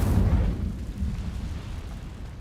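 An Incendio fire spell from Hogwarts Legacy, a low rumbling whoosh of flame that flares at once and then settles into a steady, fading roar.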